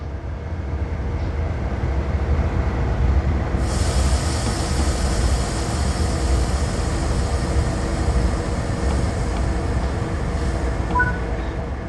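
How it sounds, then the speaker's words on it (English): A train in the Train Sim World 3 video game begins rolling after its independent brake is released, producing a loud, steady rumble of wheels and machinery that brightens into a hissing wash partway through, with no voices. "Finally, release the independent brake and you'll start moving."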